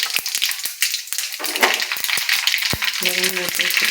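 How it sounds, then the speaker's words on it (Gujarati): Mustard seeds and cumin crackle and sizzle in hot oil for a Gujarati Maggi rice tempering, a steady close frying hiss broken by sharp popping ticks and a few spoon taps. "તેલ આવી ગયું છે પહેલાં રાઈ જીરું નાખશું"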